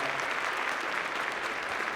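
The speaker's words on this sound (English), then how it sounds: "please stand so we can applaud for you" A room full of people applauds the Manhattan Borough President's team at the 2025 State of the Borough Address, steady dense clapping that holds at an even level from start to finish.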